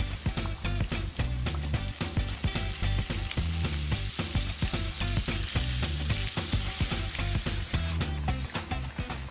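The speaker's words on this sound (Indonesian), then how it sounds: "kita biarkan yang didih sebentar ya sampai airnya berkurang" Padang-style sauce for crab bubbles and sizzles in a pan as it reduces, a dense, continuous crackle of fast irregular pops with no talking.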